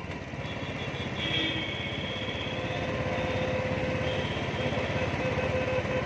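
Steady motorcycle engine drone while riding on a trip around Gorakhpur, a continuous mid-pitched hum with wind rush holding at an even level throughout, no talk over it.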